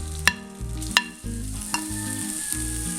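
Ginger and garlic sautéing in hot oil in a pan, a steady close sizzle broken by a few sharp clinks of a utensil stirring, with no voices.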